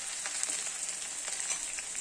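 Chopped shallots fry in oil after mustard seeds have popped, making a soft, even sizzle with faint crackles throughout, fairly quiet and close.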